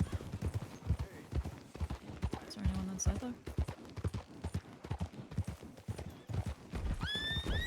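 Horse hooves clip-clopping in a steady rhythm with a short neigh in the middle, heard in Red Dead roleplay under near-constant talking voices, with whistle-like chirps near the end.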